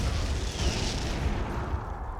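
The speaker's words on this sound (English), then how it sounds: "right-click on the targets downrange and the zone troopers will fire on them" Zone troopers firing on targets in Command and Conquer 3, a dense, loud barrage of booming energy blasts and impacts that rumbles on steadily for the whole span without voices.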